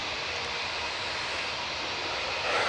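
An Airbus A320 jet coming in to land at Manchester Airport, a broad steady roar of aircraft engines rising slightly toward the end, moderately loud at a distance, with no voices.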